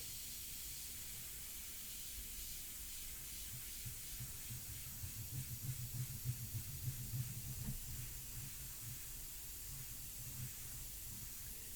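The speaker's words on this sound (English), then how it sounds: "Brad says the Extreme Patriot Aero is an awesome airbrush" An Extreme Patriot Aero airbrush sprays India ink with a faint, continuous airy hiss that holds steady and swells slightly midway.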